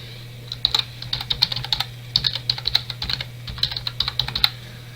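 FTP login details are typed on a computer keyboard in a close, fast, uneven run of crisp key clicks over a low steady hum.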